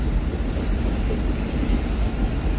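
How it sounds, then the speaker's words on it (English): An elevated J subway train pulls into a station above a rainy New York City street, a steady loud rumble of rolling cars with faint high wheel squeal, no talking. "So the train is up above. They are pulling in."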